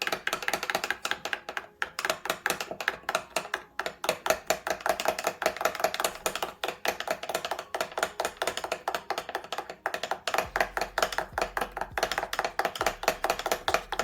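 A flour or cornstarch slurry is whisked quickly in a bowl, giving a steady run of rapid light clicks and taps against the sides that keeps going without pause, close up and fairly quiet.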